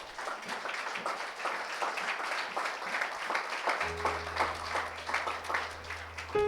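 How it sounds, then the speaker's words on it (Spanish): A church congregation applauds with steady, dense clapping throughout, moderately loud, and a low organ or keyboard tone enters partway through. "Denle un aplauso al Señor."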